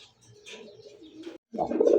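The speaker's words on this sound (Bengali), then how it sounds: "এটা ডাক হ্যাপি ডাক, বাঘবাকুম করে ডাক দেয়" A pigeon coos softly and repeatedly close by, with a louder, throatier coo rising at the end.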